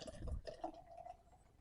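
Beer being poured into a glass gives a soft, quiet liquid gurgle and fizz, starting with a fuller glug before settling into a gentle trickle.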